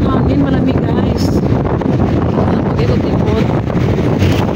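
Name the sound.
wind blowing into the microphone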